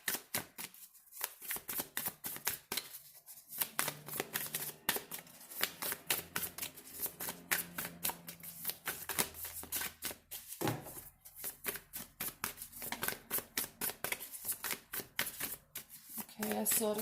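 Tarot cards riffle and snap in rapid repeated shuffles close to the mic, with a person talking intermittently over the papery flutter.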